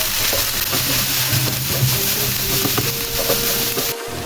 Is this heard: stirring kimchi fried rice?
yes